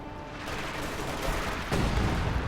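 An ML-20 gun fires in a video game battle amid a steady roar of combat noise, with a heavier boom standing out near the end.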